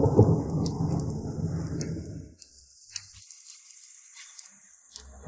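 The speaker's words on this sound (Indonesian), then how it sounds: "Hujan turun." Heavy thunderstorm with a deep, rolling thunder rumble that fades after a couple of seconds, leaving steady rain hiss and scattered drop sounds.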